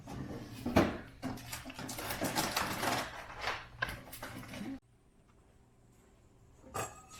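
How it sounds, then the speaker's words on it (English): Vegetables being chopped for homemade pizza toppings, a run of quick knife taps and scrapes on a cutting board up close, then near silence with one last brief clatter. "The next thing they're doing is cutting up the veggies to go on top of the pizza"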